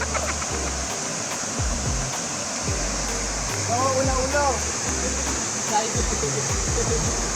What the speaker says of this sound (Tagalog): Talon na, pre.